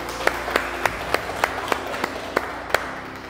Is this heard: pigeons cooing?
no